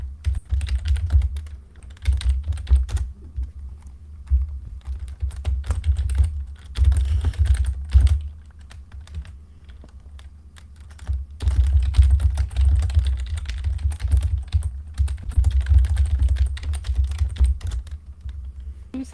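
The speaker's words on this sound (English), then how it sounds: "Who's having a nice time typing?" Rapid, steady typing on a computer keyboard, close and fairly loud, with a dense stream of keystrokes broken by a few short pauses and a deep hum underneath.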